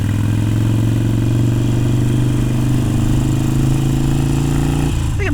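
A Harley-Davidson motorcycle cruises along a highway with a loud, steady low engine drone and rumble close by, holding an even pace before a brief shift at the end.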